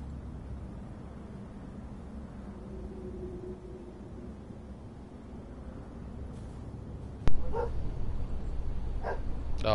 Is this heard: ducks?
no